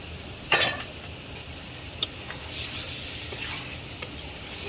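Baim fish is added to a pan of spice paste frying in oil, giving a steady soft sizzle with a sharp clatter as it goes in and a few light utensil taps while it cooks.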